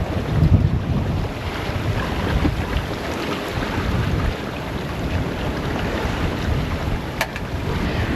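A cruising sailboat moves under set sails on the Great Barrier Reef, with steady wind buffeting the microphone over a continuous rush of water along the hull, and no voices.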